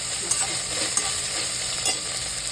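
Onion frying with ginger-garlic paste for a spicy mutton dish, a steady close sizzle with a few soft scrapes of stirring throughout, no voices.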